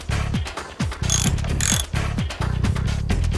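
Ratcheting wrench repair effect from Command & Conquer Red Alert, a loud mechanical clicking in repeated bursts with brief bright metallic clanks, looping steadily over about three seconds.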